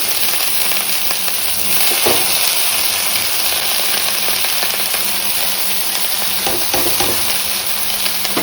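Shredded cabbage cooks with spiced fried potatoes in a pan, a loud continuous sizzle and hiss with occasional scrapes and knocks of a stirring utensil, close up and without talk.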